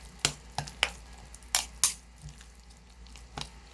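Oatmeal bread batter being stirred in a bowl, with a run of sharp, irregular clicks and wet knocks from the utensil, close and fairly quiet, with no talking.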